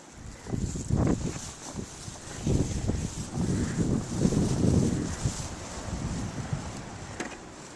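Gusting blizzard wind during a whiteout on a plowed snowy road, a rough broadband roar rising and falling in bursts against the microphone, fairly close and steady throughout with no talk.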